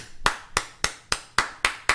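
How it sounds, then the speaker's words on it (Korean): A church congregation claps in a slow, even rhythm of seven sharp, distinct claps, each clearly separated. The claps are fairly close and stand alone with no talk over them. "박수를 쳐요."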